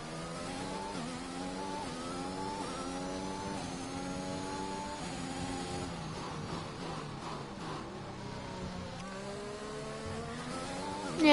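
A Mercedes Formula 1 race car engine in a racing video game, whining steadily at high revs with rising and falling pitch sweeps through gear changes, continuous and fairly close.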